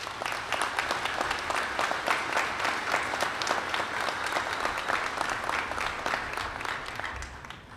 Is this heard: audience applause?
yes